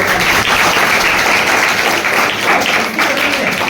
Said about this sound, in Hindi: तो एक बार पूरा जोरदार ताली